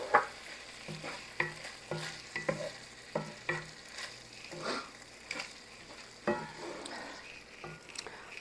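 A spoon stirs mixed beans with brown sugar in a pot, giving a run of soft, close scraping and wet knocks at an uneven rhythm, with a faint sizzle underneath.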